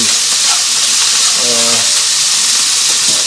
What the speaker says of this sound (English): These mushrooms are cooking down nicely.